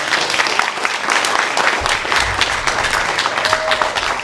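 A town hall audience in West Des Moines applauds steadily and loudly for several seconds, a dense wash of many hands clapping with no pause.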